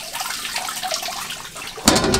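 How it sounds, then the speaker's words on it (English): Water runs continuously with a soft rushing splash into a rainwater tank, then grows suddenly louder and fuller near the end, as if pouring into a container. "I will leave now water running like this for few hours"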